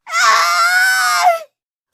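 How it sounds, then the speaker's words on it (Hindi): A woman in a Hindi horror story lets out one loud, sustained scream lasting just over a second, close and alone, before cutting off into silence. "जोर से चिल्लाती है"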